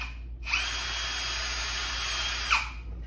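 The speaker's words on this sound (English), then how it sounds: "with the 5/32nd inch bit, you're going to drill a hole into" Power drill fitted with a 5/32 inch bit boring into PVC pipe, a single steady high whine of about two seconds that starts and stops abruptly, close and clear with no talking.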